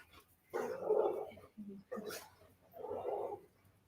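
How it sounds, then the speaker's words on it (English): A dog barks at a passing bike in three short, fairly close bursts separated by brief pauses, with a faint whimper between them. "Dog's going to go off in 3, 2, 1."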